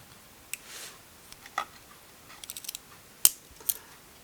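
Wenger-design folding scissors with a metal spring, handled close up, giving a few sparse, sharp metallic clicks and snips in quiet surroundings.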